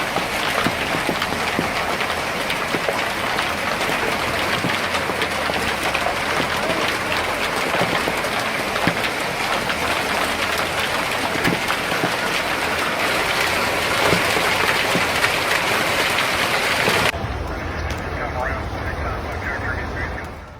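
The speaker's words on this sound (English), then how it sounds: "White hailstones pounded the ground, bouncing like thousands of frozen gems" Hailstones pound the ground in a dense, roaring clatter that holds steady and loud almost throughout, then drops to a thinner patter near the end.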